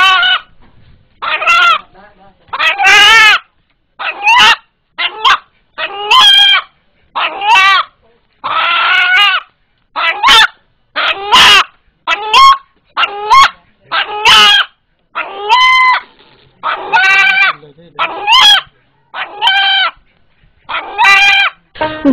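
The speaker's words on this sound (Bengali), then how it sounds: "ভয় পেলেই মোরগটি যেভাবে ডেকে ওঠে সেটাকে আল্লাহ আল্লাহ শব্দের সাথে" A frightened rooster gives a long run of loud, close, repeated calls in short bursts that are said to resemble the words 'Allah Allah', with no other sound in between.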